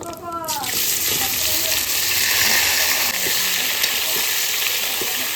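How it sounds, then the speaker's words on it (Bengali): Loud, steady sizzling of fried vegetables dropped into hot oil with dried red chillies and panch phoron, a sharp burst at the start settling into continuous frying hiss with faint stirring clinks. "ভাজা সবজিটা আমি এবার দেবো"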